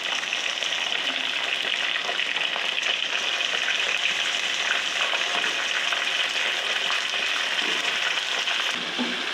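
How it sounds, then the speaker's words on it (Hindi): Chicken added to browned onions in a pan sizzles steadily, a constant bright hiss and crackle of frying with no pauses and no voices. "अब इसमें मैं चिकन डालती हूँ।"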